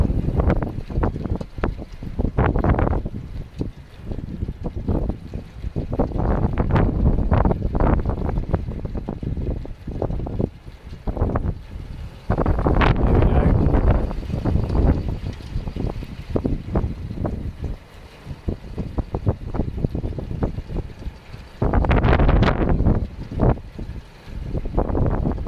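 High winds gust around a 48V 1kW electric bike hub motor wind generator. Loud, rough buffeting roars surge and ease in repeated waves, with heavy wind noise on the microphone and no voices.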